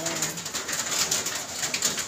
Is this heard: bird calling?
yes